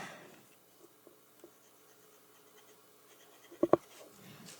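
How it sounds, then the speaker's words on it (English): A titanium fountain pen with a Moonman #5 nib is tested on paper in a very quiet room, making a few faint, sparse scratches followed by two closer, sharper strokes near the end. "let me test out the nib a little bit quick and see how it works"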